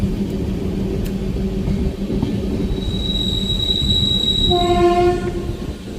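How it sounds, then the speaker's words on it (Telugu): Venkatadri Express train rolling into the Kacheguda outer area, a continuous rumble of wagons with a long squeal of wheels on the rails rising in the second half, heard alone. "ఫైనల్లీ మనమైతే వచ్చేసాం కాచిగూడ అవుటర్లో అయితే ఉంది మన ట్రైన్ ఇప్పుడు"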